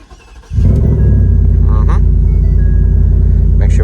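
A 2023 Ford F-150 with the 5.0 V8 and 10R transmission, freshly tuned for E85, cranks and fires up with a sudden loud roar, then settles into a deep, steady, rumbling idle close by.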